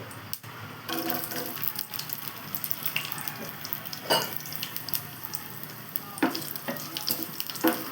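Mustard seeds fry in hot oil for a dry fish curry, giving a continuous crackling sizzle punctuated by sharp pops and scraping stirs, close and fairly loud, with no talking.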